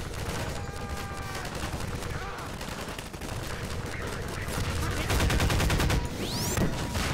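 Enemy soldiers fire at the player in the Half-Life 2 shooter, producing dense, loud bursts of rapid gunfire and crackling shots that build toward the end of the clip, with speech faintly present beneath them.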